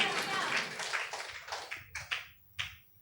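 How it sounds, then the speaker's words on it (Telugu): A church congregation claps hands in praise during a sermon, a dense burst of applause that thins into several separate loud claps, the last ones distinct and spaced. "చప్పట్లు కొట్టి ప్రభువును స్తుతించండి."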